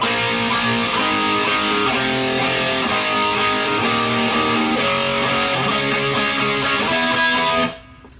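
A distorted electric guitar riff played slowly, chords shifting in a steady pattern, then cutting off abruptly just before the end.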